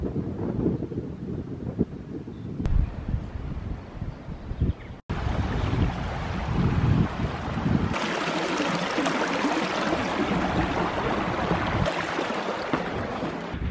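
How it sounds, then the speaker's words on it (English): Strong gusts of wind roar and buffet the microphone on open hilltops in the Yorkshire Dales, surging and dropping in loud waves with a brief cut in the middle, no voices. "Keep getting big gusts of wind"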